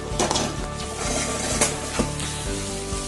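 Masala for broken wheat cutlets sizzles in a pan as it is stirred, a bright steady crackle broken by repeated spoon scrapes and metallic clinks against the pan, close and without voices.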